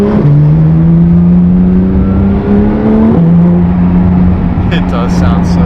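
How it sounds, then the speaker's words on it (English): A rear-wheel-drive car with a newly fitted exhaust revs close by, its steady engine tone rising and then dropping, with a voice briefly near the end. "We just put a new exhaust on it today."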